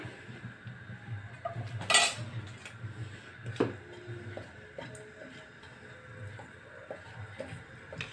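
Whole spices, a cinnamon stick piece, a few black peppercorns, cloves and a flower spice, drop into a cooking pot with a sharp metallic clink near two seconds and a softer knock later over quiet kitchen background.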